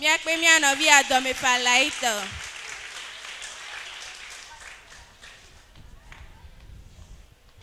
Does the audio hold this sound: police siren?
no